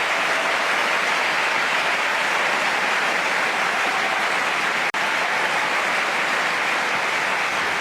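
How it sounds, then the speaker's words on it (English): Sustained applause from a big indoor tennis audience at the 2012 Swiss Indoors Basel semifinal fills the space, even and unbroken, heard from a slight distance with a brief click partway through. "Soaking up the applause."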